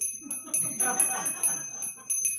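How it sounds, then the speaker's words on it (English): A small handbell rings repeatedly in an irregular series of bright, ringing strikes, sounded to call people back in at a speech contest, fairly close with a faint background murmur. "we are going to ring the bell, call you back in"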